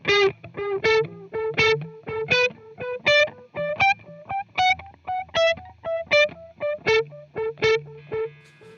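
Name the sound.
electric guitar through Suhr PT100 plugin with more delay mix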